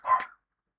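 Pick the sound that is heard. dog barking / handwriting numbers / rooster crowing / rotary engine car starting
dog barking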